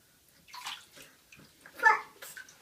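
Bathwater splashing and running faintly while a child's foot is washed in the tub, with a few soft sloshing bursts, one louder splash near the end, and quiet child vocal sounds.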